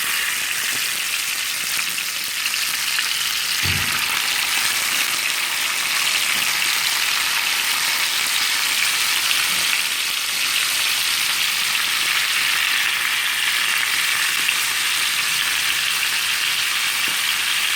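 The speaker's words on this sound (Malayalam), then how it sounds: "അത് കഴിഞ്ഞ് കാട ഓരോന്നായി നമുക്ക് അതിലേക്ക് ഇട്ട് കൊടുക്കാം." Six quail, about 600 grams in all, fry in a pan with curry leaves, making a loud, continuous close-up sizzle with a faint crackle and one brief low knock early on.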